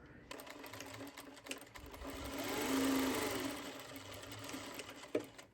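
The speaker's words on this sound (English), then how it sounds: "we are going to sew it at 1/4 inch" A sewing machine stitches a quarter-inch French seam in one short, quiet run, its motor rising and then easing off, with a small click near the end.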